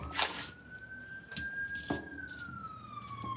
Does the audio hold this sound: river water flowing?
no